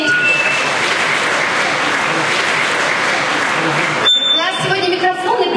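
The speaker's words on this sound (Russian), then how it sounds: "Аплодисменты." A concert audience in a hall applauds loudly and steadily with dense, continuous clapping that cuts off abruptly near the end, followed by a short burst of mixed sounds.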